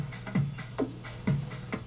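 Pitched-up drum loop slices triggered in Reason's Dr.Rex loop player, a quick rhythmic pattern of clicky hits and thumps in an even groove, played alone without talk.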